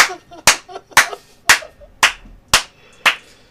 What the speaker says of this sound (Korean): 오늘 박수 너무 많이 주세요